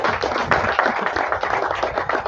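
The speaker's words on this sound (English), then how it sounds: "Please give the minister another round of applause" A crowd applauding a minister at a commissioning event, a close, busy patter of many hands clapping continuously at moderate loudness.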